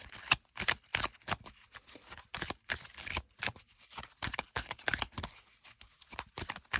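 Oracle cards are shuffled by hand in repeated quick riffling, papery bursts, close and fairly soft, with no talking.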